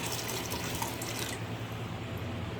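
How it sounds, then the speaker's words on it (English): Steady rush of tap water pouring into a pot of collard greens, close and continuous, with the high splashing fading a little partway through as the pot fills. "I'm going to put just enough water in these."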